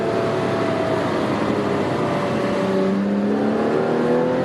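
Porsche cars accelerate on the Homestead race track in Miami, their engines droning loud and steady while rising pitch lines climb as revs build toward the end.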